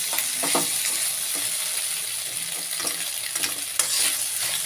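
Butter pasta is stirred in a hot pan, with repeated scraping and stirring strokes over a steady background sizzle, moderately close.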